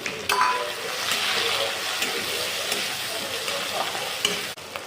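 Ginger-garlic paste and tomato fry in a pan with onion, a close, steady sizzle with stirring scrapes running throughout.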